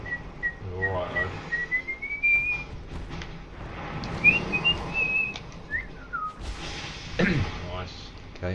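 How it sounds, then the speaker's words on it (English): A person whistles a wavering tune in short bursts at close range over video game sounds, with thuds and impacts from the game mixed in. "Maybe the whistling will work."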